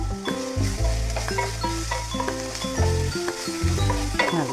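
Tomato, coriander leaves and mint sizzle and fry in a pan while being stirred, with steady crackling and scraping strokes throughout, alongside some music and no speech.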